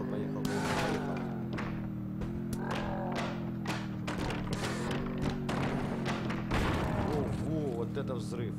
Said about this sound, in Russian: Вот это взрыв.